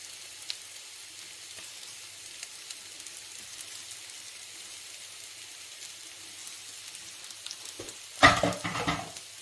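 Eggs frying in a pan alongside a potato stir-fry, a faint steady sizzle under quiet room noise that swells into a louder crackling burst near the end.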